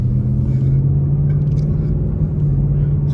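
A Ford Mustang S550 Mach 1 gives a loud, close, deep engine rumble from inside the cabin while driving, a steady low drone with slight shifts in pitch.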